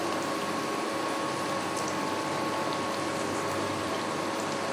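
Cabbage pakora fritters frying in hot oil, a steady dense bubbling sizzle that holds evenly throughout with no voices over it.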